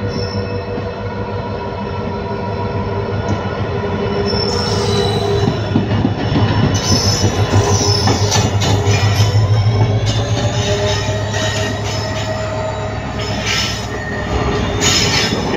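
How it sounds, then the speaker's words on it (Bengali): The Siliguri Intercity Express rolls into Alipurduar Junction station, its wheels screeching in a long, loud, shrill squeal over the rumble and clatter of the carriages, heard close from on board. "তো তোমাদেরকে ট্রেনটি আলিপুর জংশনে যে এন্ট্রি নিচ্ছে সেটা তোমাদেরকে দেখাচ্ছি"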